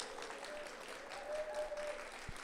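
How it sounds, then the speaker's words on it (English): A panel audience claps for an honoured guest, a brief, even patter of applause in a room with a faint tone running beneath. "Let's give Sue one last big round of applause for everything that she's done."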